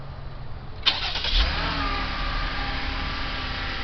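A 2016 Jeep Grand Cherokee Limited's 3.6-liter V6 cranks briefly and catches after a remote start, then settles into a steady, close idle hum.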